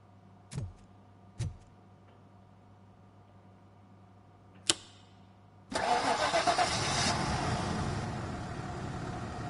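A car engine in the video game Robocop Rogue City catches after a few sharp clicks and clunks, then roars into a loud, steady running idle that holds to the end.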